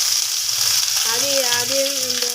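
Garlic sizzles steadily in hot oil in a pan, a close, loud frying hiss running throughout, with a wavering tonal whine rising from about the midpoint.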